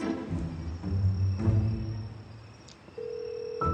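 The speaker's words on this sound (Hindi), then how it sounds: "खैर, मैं कॉल करके देखता हूँ, बेल बजेगी तो मिल जाएगा" A phone call rings out with electronic tones and a steady ringback beep near the end, fairly clear over faint background sounds, with no one speaking.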